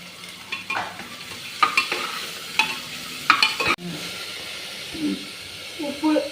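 Carrot, capsicum and beans stir-fried in a pan for wheat dalia upma, with a steady sizzle and hiss under repeated scraping stirs of a spoon, close by, and someone speaking briefly near the end.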